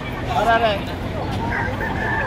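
Gamefowl at a Padre Garcia gamecock fair crow and cluck amid a crowd, a rooster's call rising near the start over steady speech babble and people talking.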